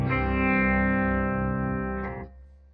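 Electric guitar played through a pitch shifter set a major second up at full wet blend, in a high-gain rig; one sustained, processed chord rings loud and steady, then fades and cuts off after about two seconds.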